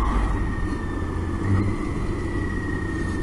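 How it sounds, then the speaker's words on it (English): Motorcycle engine heard from a helmet camera during a clutchless downshift while riding, a steady mid-pitched drone with a brief swell of revs midway over continuous wind and road noise. "that was a downshift with no clutch"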